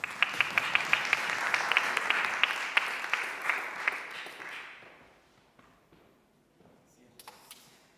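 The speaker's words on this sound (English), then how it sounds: "let's keep applause." An audience at a Kaustinen intangible cultural heritage seminar applauds after a musical performance. Dense, loud clapping fills the first few seconds and then gradually fades out to scattered claps.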